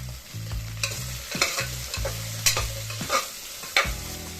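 Vegetable pieces cooking in hot oil with turmeric for a traditional mukkala pulusu, stirred in a regular rhythm of scraping strokes over a continuous sizzle, close and loud with no speech.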